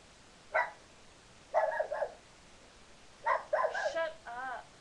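A female dog barks nearby indoors in a few short bursts: a single yap, then a quick double bark, then a longer run of barks ending in a whiny yelp.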